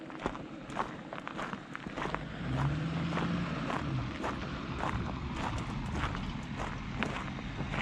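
A truck rumbles along a road toward a boat launch near Jenny Lake in Grand Teton National Park, its steady engine noise swelling midway while a hiker's crunching footsteps continue close by.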